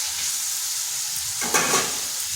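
Diced potatoes tossed with spices in a hot pan give a steady oil sizzle, with a brief burst of spoon-scraping stir partway through.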